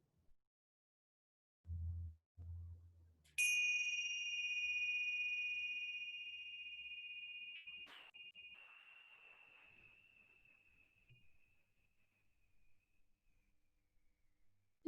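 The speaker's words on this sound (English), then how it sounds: "we're going to listen to the sound of the bells one more time. I'm just going to ring them once." Mindfulness bells struck once after some soft handling knocks, giving a clear high ring that hangs and slowly fades for about ten seconds in a quiet room.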